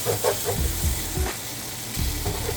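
Ramen noodles sizzle and crackle in a hot pan, sticking as they stir-fry, with stirring scrapes over a steady frying hiss, close up.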